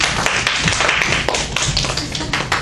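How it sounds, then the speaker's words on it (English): Soft golf clap from a small group, a run of light, quick hand claps with a tapping quality, fairly close and steady throughout with no talk over it. "Golf clap, golf clap."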